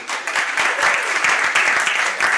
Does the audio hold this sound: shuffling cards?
no